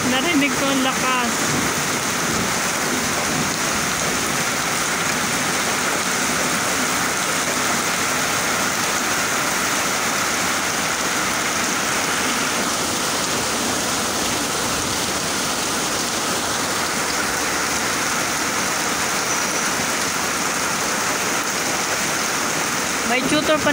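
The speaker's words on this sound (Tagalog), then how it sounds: "Maulang hapon ng Webes." Continuous afternoon rain in Tung Chung, Hong Kong pours down in a dense, even hiss for the whole stretch, with no voices and no break in its steady wash.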